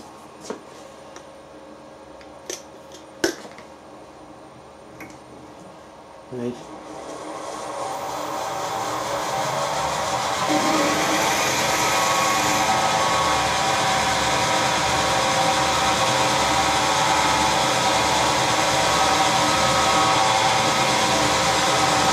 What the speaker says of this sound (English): I've used a variable speed drive on the milling machine.